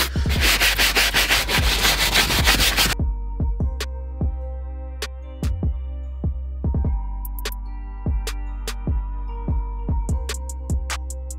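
A soft brush scrubs the leather seat of an Audi TT, first in a fast, dense back-and-forth burst, then in slower separate strokes with brief pauses, close and clear with no talk.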